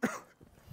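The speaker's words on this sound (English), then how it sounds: "Sorry, I just choked on my water." A person coughs sharply once after choking on water, followed by a few softer throaty breaths, close and alone with no talk.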